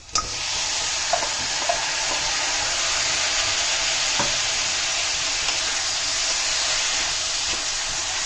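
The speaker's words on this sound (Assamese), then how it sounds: "এতিয়া আমাৰ কাটি থোৱা চিকেনখিনি আমি দি দিম।" Chopped chicken pieces sizzle loudly and steadily in a hot pan with ginger-garlic paste for an Assamese green chicken curry, a dense continuous frying hiss with a few faint stirring clicks.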